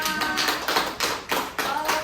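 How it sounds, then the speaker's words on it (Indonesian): A class of schoolchildren clapping together in a rhythmic pattern, about seven sharp, evenly spaced bursts of hand claps, close and moderately loud, with no talking. "Tepuk tangan untuk kita semua"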